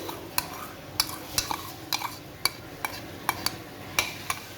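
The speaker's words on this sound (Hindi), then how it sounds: "अब मैं ये सारे अंडे जो हैं इसके अंदर डाल दूँगी।" Eggs going into a pan of simmering potato and cabbage curry with ghee risen to the top, a utensil clinking sharply against the pan at a steady beat over a soft sizzle, close by with no talking.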